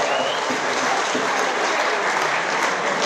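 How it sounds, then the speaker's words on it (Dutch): Dense, steady applause from a concert audience after a performance by a city orchestra, a broad wash of clapping that stays loud and even throughout with no talking. "Applaus voor het publiek."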